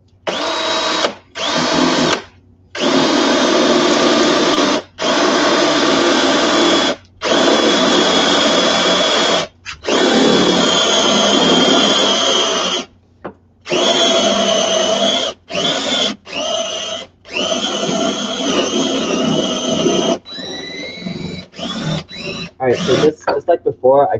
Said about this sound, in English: this is our Forstner bit going through a hole here